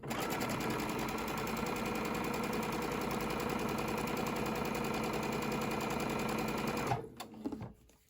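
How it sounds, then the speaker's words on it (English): A sewing machine runs steadily for about seven seconds, stitching quilt triangles along a quarter-inch seam with a close, rapid mechanical whir, then stops with a few soft handling clicks. "I'm going to line them up under my machine with my 1/4 inch seam, and I just sew right along"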